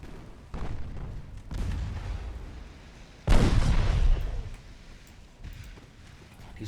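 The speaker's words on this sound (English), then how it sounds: "my light cruisers are getting pounded by the enemy guns" Enemy naval guns fire in the Ultimate Admiral Dreadnoughts warship game, several deep booms spaced a second or two apart with one louder blast midway, heard under occasional talk.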